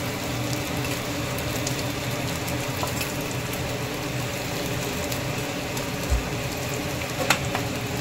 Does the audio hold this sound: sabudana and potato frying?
yes